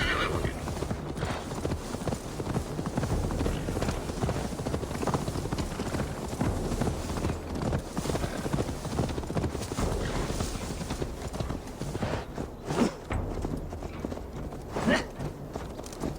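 A horse's hooves clip-clop in a steady walking rhythm in the Assassin's Creed Valhalla video game, heard close and continuous with an occasional whinny over ambient game sound.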